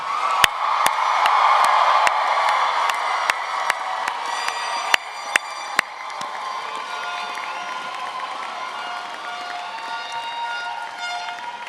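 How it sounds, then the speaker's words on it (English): Audience applause and cheering for 2023 College of Business and Economics graduates at a commencement ceremony in a pavilion, a broad sustained crowd roar with whoops and sharp claps, loudest early and easing slightly toward the end. "Please give another round of applause to the 2023 graduates from the College of Business and Economics"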